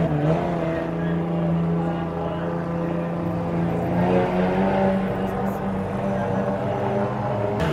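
Speedway race cars lapping a track in Katherine, Australia, a loud continuous engine drone with layered tones that shift in pitch as the cars accelerate, heard without talk.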